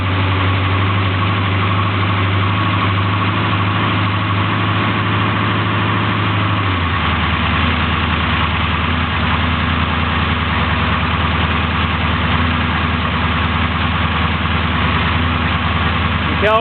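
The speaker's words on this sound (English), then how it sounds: "It runs really smooth even though it has a camshaft in it" A 383 small block Chevy with a performance camshaft idles nearby in a steady, rumbling loop, its tone shifting lower partway through as it keeps running evenly.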